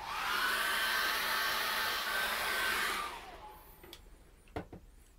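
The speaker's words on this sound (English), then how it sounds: "And then I'm going to dry that with a hairdryer." Hair dryer blowing steadily to dry acrylic paint on a Christmas card, a loud continuous whoosh for about three seconds before cutting off, followed by a few faint clicks and taps.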